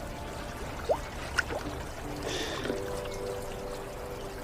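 River water runs with a faint, steady trickle and a few soft splashy gurgles, heard alone at low level.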